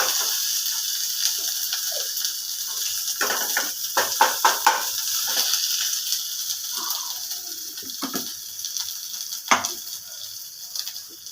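Ginger and radhuni spice being stirred and fried in a pan for Tagore-style shukto, a steady close sizzle broken by several sharp scraping clicks of the spoon against the pan.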